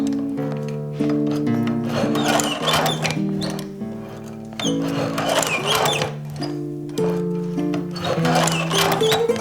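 A sewing machine stitches straps back onto 20-year-old True Red Nike SB Dunk sneakers, running in steady rhythmic bursts with short pauses between runs, close and clear.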